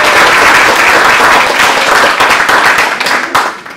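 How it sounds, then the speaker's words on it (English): A crowd at an evening debate event gives a guest moderator a loud round of applause, a thick wash of many hands clapping close by that thins out toward the end. "How about a round of applause for her, please?"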